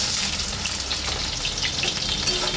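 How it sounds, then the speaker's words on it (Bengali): Sliced onions sizzle and fry in hot oil in a kadai with five-spice tempering, a steady dense crackling hiss throughout, close and fairly loud with no talk. "তেল গরম হয়ে গেছে, একটু 5 ফোড়ন দিয়ে দিলাম, দিয়ে দিচ্ছি 2টো পেঁয়াজ।"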